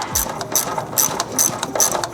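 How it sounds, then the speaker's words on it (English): Hose clamp being tightened on the charge pipe coupler of a 2015–21 Subaru VA WRX, a ratcheting tool clicking in a steady repeating rhythm of about five quick bursts, close and fairly loud, with no talk. "And now we can just tighten this clamp up along the flange."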